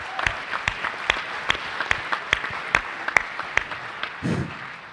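A few people clap at a Mississippi Boys State gathering, sparse separate hand claps spaced roughly every third of a second, faint and thin, ending in a short murmur of noise.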